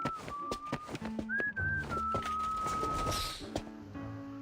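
Whistling by a character in a video game, a clear wavering tune of a few held and sliding notes, close and fairly loud over soft background sounds.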